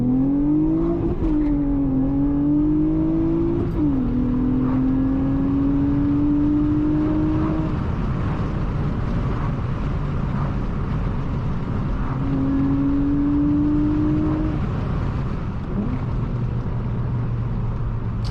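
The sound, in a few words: Honda Accord V6 coupe engine revving, VTEC, six-speed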